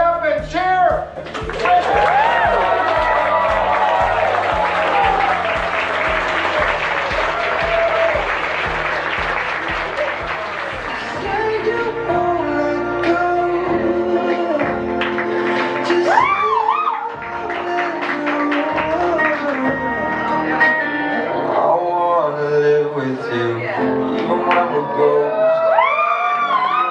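Wedding guests at a Cave Springs Vineyard reception in Jordan, Ontario burst into loud, sustained applause and cheering for the newlyweds, with music playing underneath and the clapping gradually giving way to the music.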